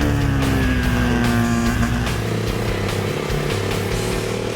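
A 2015 KTM RC390 sport motorcycle rides on the road, its engine holding a steady, loud drone with a slight shift in pitch partway through, and no voices over it.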